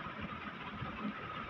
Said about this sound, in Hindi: ट्रैक्टर है 2009 मॉडल है, अलगाजी है, 65 HP है।